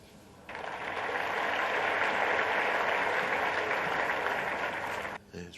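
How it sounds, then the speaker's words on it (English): Snooker crowd applause at the 2021 German Masters starts abruptly, holds as a steady broad clatter of many hands for about four and a half seconds, then cuts off sharply. "It's rogue applause, wasn't it?"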